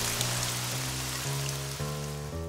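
Steady rain falls at the Spa-Francorchamps race circuit on a wet Sunday, a continuous dense hiss of drops on surfaces under faint tonal music, with no voices.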